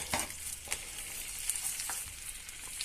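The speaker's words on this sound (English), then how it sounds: "Look, now it's starting to sizzle" Soft, steady sizzling and crackling of cold chicken frying in a pot, with occasional sharper pops and stirring scrapes.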